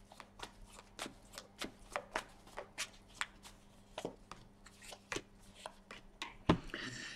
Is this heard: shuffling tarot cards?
yes